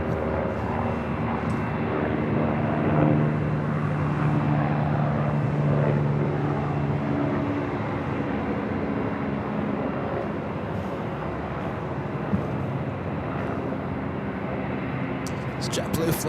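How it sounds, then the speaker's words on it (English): A JetBlue Boeing 757 jet airliner at Los Angeles International Airport produces a steady, continuous engine roar that holds at a fairly even loudness throughout, with people talking over it. "It's JetBlue flight heading to Fort Lauderdale, flight 100."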